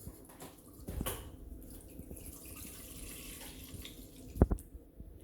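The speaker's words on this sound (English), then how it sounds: "Then you add half gallon of whole milk." Whole milk, half a gallon, pours steadily into a container, a soft continuous liquid trickle heard close and quiet, ending with a couple of small knocks.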